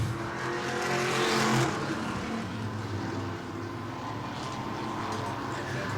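Modified race cars circle the track at New Smyrna, engines roaring past in a loud surge early on, then a steady, slightly distant drone of several cars racing side by side.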